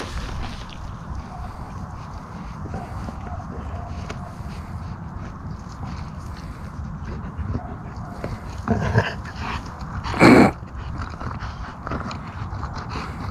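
A German shepherd moves through a forest during mushroom picking, its rustling steps steady against the woodland ambience, then a short whimpering, snuffling sound and a louder brief yelp near the end.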